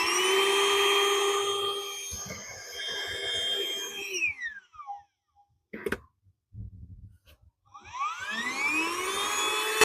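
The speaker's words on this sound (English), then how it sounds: "if we twist it the other way, that sucks out the air so you can pack it." A rechargeable air pump deflates a truck bed inflatable mattress, its whining motor sliding down in pitch, cutting out, sputtering briefly, then starting up again with a rising whine.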